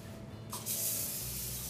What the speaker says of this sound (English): So now you would have to spray the pan with the Pam, of course.